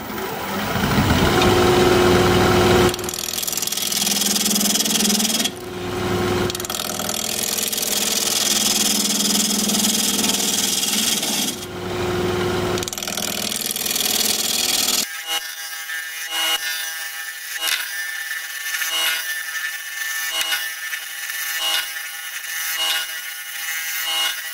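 A wood lathe spins a maple crotch bowl at about 1200 RPM while a 5/8 inch bowl gouge cuts it, producing a loud continuous rough scraping hiss with brief pauses, then a steadier whirring tone as the cut ends.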